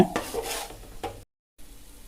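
Soft sizzling and stirring of masala with coriander powder sautéing on low heat in a pan, with a few scraping strokes before a brief silence and then quieter frying.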